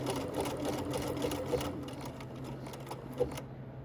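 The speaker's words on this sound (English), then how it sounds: "I'm going to press reverse control to go ahead and do the bottom bar tack" A Bernina 335 sewing machine runs steadily while stitching the bottom bar tack of a buttonhole, its motor whirring with a continuous rapid needle rhythm close up before stopping abruptly near the end.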